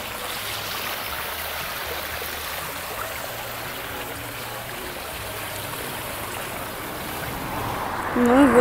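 The Sella river flows past a bridge in Arriondas, Asturias, a spot where people raft and canoe down the river. Water rushes in a steady, broad wash throughout, with a faint voice in the background and a slight swell at the end.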